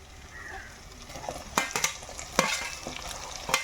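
Soaked dried shrimp frying in a cooked ginger-garlic masala, a low steady sizzle broken by several sharp stirring scrapes and clatters of a spoon against the pan.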